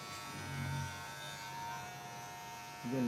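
Electric shaver buzzing steadily while shaving a man's head, a close, faint continuous hum with slight changes in pitch as it moves, and a brief voice near the end.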